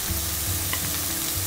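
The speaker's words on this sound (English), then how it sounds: "So while the mushrooms are sauteing" Mushrooms sautéing in a pan on the stove for a stir-fried cauliflower breakfast rice give a steady, close sizzle and frying hiss with a low hum underneath and no talk.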